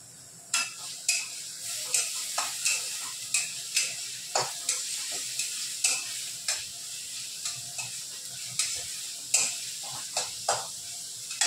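Onion frying in a pan, a constant sizzle punctuated by regular scraping strokes of a spatula against the pan, close and fairly loud, with no voices.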